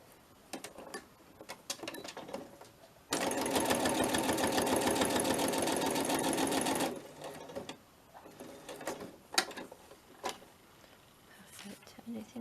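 A sewing machine stitches fabric in a steady, loud mechanical whir lasting nearly four seconds, with quieter talk and handling noises before and after it.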